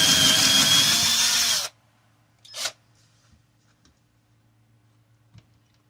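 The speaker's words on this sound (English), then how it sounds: "So I'm going to drill these holes" A power drill whirs loudly for under two seconds, then stops abruptly, followed by a short whine and faint clicks in near silence.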